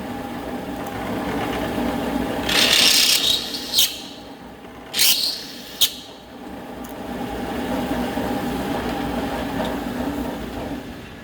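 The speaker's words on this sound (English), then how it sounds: "drill your countersink holes" A drill press bores countersink holes in a light switch wall plate, with a steady machine hum throughout and a few harsh bursts of cutting and grinding where the bit bites into the plate.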